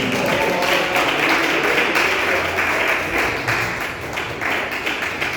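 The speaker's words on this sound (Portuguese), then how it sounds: "as palmas são para Deus." Loud applause from a church congregation, many hands clapping rapidly and continuously, easing slightly toward the end.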